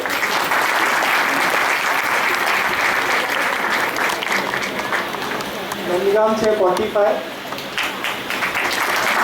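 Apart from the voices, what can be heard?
audience applause at quiz event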